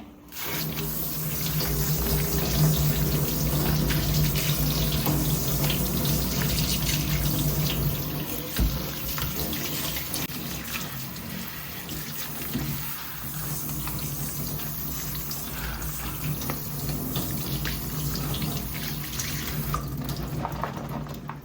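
Tap water runs steadily into a kitchen sink while food is rinsed under it, a continuous close splashing that holds evenly throughout with only slight shifts in flow.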